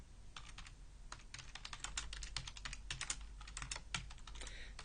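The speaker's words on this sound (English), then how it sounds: "So we'll type in a name" Rapid keystrokes on a computer keyboard, clicking in quick uneven bursts at close range with short pauses between words, fairly quiet and free of any talking.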